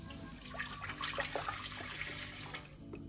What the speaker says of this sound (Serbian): odmah ću baciti 400 ml vode